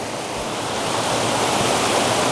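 Continuous roar of a waterfall seen from its front at a cliff edge near rice terraces in Sangthong, Laos: dense, steady rushing water filling the whole clip, loud and close, with no voices.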